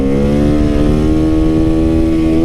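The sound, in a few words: motorcycle riding and revving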